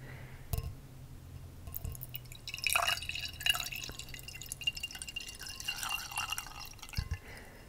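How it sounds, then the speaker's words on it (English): White Cabernet Sauvignon wine poured into a glass, a close, soft trickling and dripping pour with light glassy splashes that runs for several seconds, quiet and unaccompanied by speech. "Take my glass of wine and just pour."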